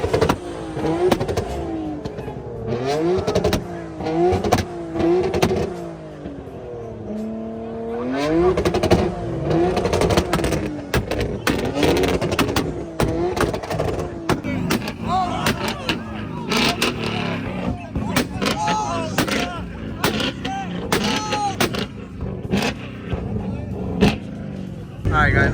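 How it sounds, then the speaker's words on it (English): Loud car engines rev and roar continuously at a crowded 2-step car meet, with rapid popping bursts, rising and falling revs and occasional tire squeal, close by and with people shouting and talking throughout. "Those cars are so loud."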